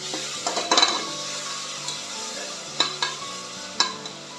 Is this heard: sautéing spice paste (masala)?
yes